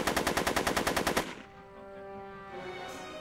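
Kid Tannen fires a machine gun in the Back to the Future video game: a fast burst of about a dozen loud, close shots lasting just over a second, then ringing decay and faint ambience.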